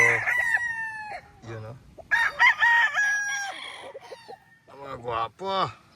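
Stag roosters, young gamecocks, crow in long drawn-out calls with clucking between them, fairly close and loud with several birds overlapping, while someone speaks in the background.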